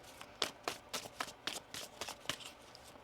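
Tarot cards being shuffled by hand, a quick run of about ten crisp riffling snaps in steady rhythm, close and fairly quiet.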